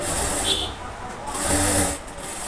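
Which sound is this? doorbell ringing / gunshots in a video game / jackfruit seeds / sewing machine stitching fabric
sewing machine stitching fabric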